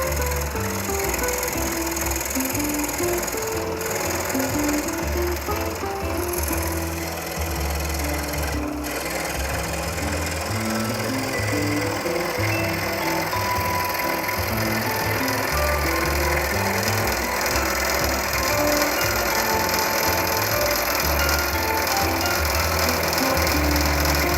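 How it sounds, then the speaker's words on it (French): A scroll saw cuts through wood in a workshop, its rapid reciprocating blade buzzing and rasping continuously at close range, with small fluctuations as the cut progresses and no talking. "j'utilise une scie à chantourner"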